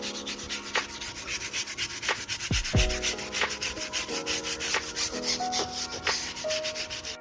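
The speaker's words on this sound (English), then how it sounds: "now I'm just scraping all that dirt off the tires" Brush scrubbing dirt off the wheels and tires of an A45 AMG: continuous, steady, close rubbing strokes with a rhythmic back-and-forth texture, no voices.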